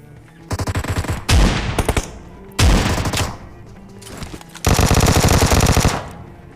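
Vector submachine gun fire in a battle royale video game, loud rapid bursts of automatic shots in three separate volleys with short gaps, close and dominant.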